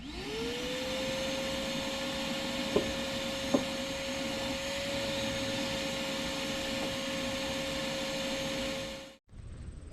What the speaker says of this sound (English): let's vacuum this side up.